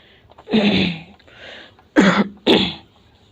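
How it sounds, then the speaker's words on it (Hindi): Three harsh coughs close to the mic: one longer throaty bout, then two sharp bursts in quick succession, with no speech. "सॉरी दोस्त, खांसी पता नहीं क्या है, आ जा रहा है, गला फंस रहा है।"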